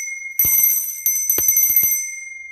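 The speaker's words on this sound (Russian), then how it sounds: "И у него, кстати, такой звон очень тонкий." A small vintage bell is struck several times, close and loud, each strike leaving a thin, high, long ringing tone that carries on between the hits.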